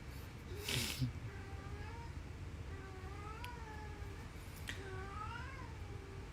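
A cat meows several times, giving drawn-out, rising and falling cries that sound faint over a steady background hum, with a short burst of noise near the start.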